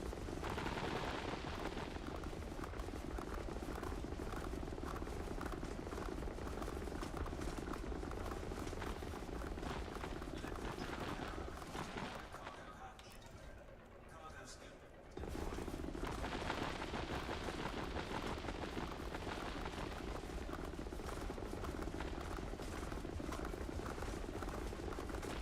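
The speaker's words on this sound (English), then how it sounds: "Opening fire." Ship weapons firing in the space combat game Elite Dangerous, a dense, continuous rapid-fire roar that dips briefly near the middle before resuming at full loudness.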